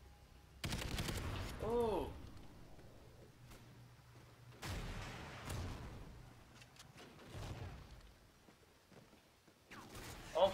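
Gunfire and missile blasts in Call of Duty Ghosts, a few heavy booming bursts with rumbling tails separated by quieter stretches, moderately faint; a voice exclaims briefly amid the noise.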